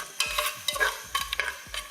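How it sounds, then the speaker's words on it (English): Seasoned food fries in a hot pan while a utensil stirs it, giving five rhythmic scraping strokes over a low, steady sizzle, close and moderately loud, with no talking. "So we're frying it so it can dry up a little more."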